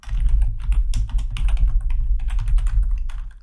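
Fast, steady clatter of keys on a computer keyboard as code is typed, close and continuous with no talking.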